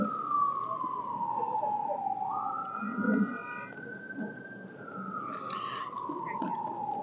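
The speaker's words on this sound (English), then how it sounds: "We'll let those sirens get by us." A wailing emergency siren sweeps down and up in pitch as it passes Annapolis City Dock, loud and steady over traffic rumble, then fades slightly toward the end.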